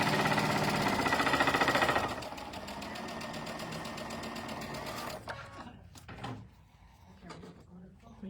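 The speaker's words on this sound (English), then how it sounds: "So I switched my machine back to the Q2 menu so it would move my needle for my 1/4 inch seam." A sewing machine stitches half-square-triangle quilt pieces with a 1/4 inch seam, its rapid needle clatter loud and steady at first, then slower, lighter stitching and a few handling knocks before it stops.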